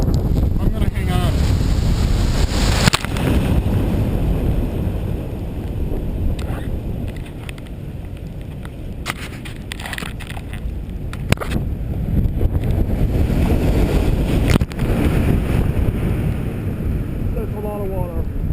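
Rough-weather waves surge and wash over the back step of a boat, with heavy sloshing water and strong wind buffeting the microphone close up, continuous and loud, and a voice speaking intermittently over it.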